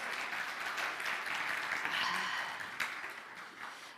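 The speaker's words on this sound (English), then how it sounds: "Let's give him another round of applause." Audience applause at a live wholeness talk, a steady wash of clapping that fades slightly toward the end, with a faint voice mixed in.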